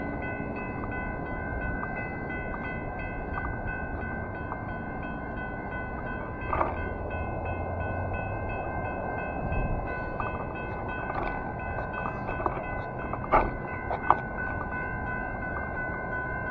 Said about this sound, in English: The first train, industrial train.